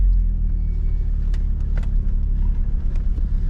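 A Volvo drives down a rough, bumpy track, its engine giving a steady low rumble throughout with a few faint knocks and rattles from the body over the uneven ground.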